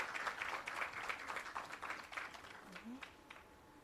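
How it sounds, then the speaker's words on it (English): An audience at a trade board's employee service awards ceremony claps steadily, the applause strong at first and gradually thinning and fading, with a brief voice near the end. "Let's keep the applause going."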